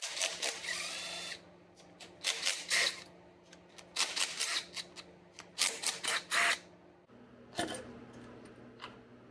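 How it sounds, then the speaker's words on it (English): Rapid ratcheting bursts and metallic clicks come from an 8mm wrench as it takes four bolts off an engine's valve covers. The bursts repeat in close, crisp clusters. "we're gonna switch to an 8mm and take these 4 bolts off holding the valve covers on."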